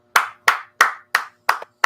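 Six crisp, evenly spaced hand claps at a steady pace of about three per second, close and clear with silence between them.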